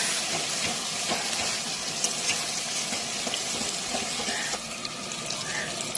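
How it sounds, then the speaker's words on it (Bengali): Spiced water poured into chicken frying in a pan, a steady hissing sizzle and splash that carries on throughout, fairly quiet. "ওই মশলার জলটা আমি দিয়ে দিলাম একটু।"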